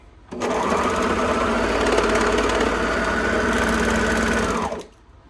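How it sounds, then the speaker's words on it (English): A sewing machine stitches down the folded cuff of a pair of leggings in one steady, loud, continuous whirring run of about four seconds, starting and stopping abruptly. "Then you're gonna sew that down."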